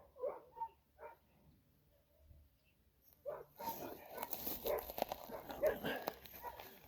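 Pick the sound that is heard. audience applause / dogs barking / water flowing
dogs barking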